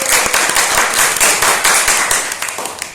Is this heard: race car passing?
no